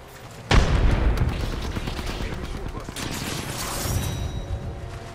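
A frag grenade bursts in an Apex Legends match, a sudden loud boom followed by sustained rumbling battle noise with scattered gunfire, and a voice speaking over it.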